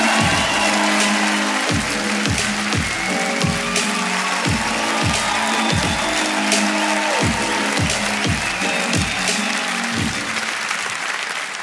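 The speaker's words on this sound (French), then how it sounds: "Faites un tonnerre d'applaudissements pour Monsieur Chris Mukuna." A theatre audience at a comedy gala in Montreux applauding loudly and continuously, dense clapping throughout with rhythmic thumping beats underneath.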